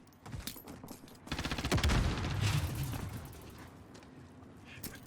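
Enemy gunfire in the video game Warzone, a few distant shots followed by a rapid automatic burst that swells into a rumbling fusillade, then fades to sparse pops.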